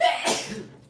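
A single short, sharp human sneeze bursts out close by, then quickly fades.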